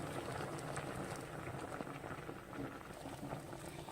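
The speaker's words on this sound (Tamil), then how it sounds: "இதுவும் நல்லா ஒரு கொதி வரட்டும்" A pot of milk kolukattai mixture boils steadily, giving a quiet, continuous bubbling and crackling hiss with no pauses.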